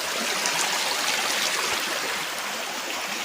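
Forest stream water rushing steadily over rocks, a loud, continuous broadband wash with no pauses and no voices.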